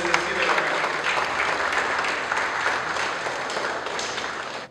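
An audience applauds the owners at the opening of Load Gym. The clapping is dense and continuous, holds at an even level throughout and fades slightly at the very end.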